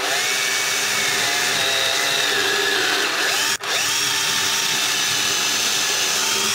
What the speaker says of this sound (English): I place this right after the last 2 screws and I drive 2 holes.